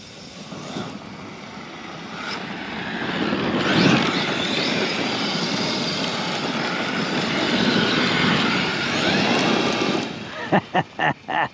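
Traxxas X-Maxx RC truck with a Hobbywing Max6 controller and 1260kv Castle motor driven at full throttle, a sustained loud whining roar with surging pitch, ending in a few short bursts.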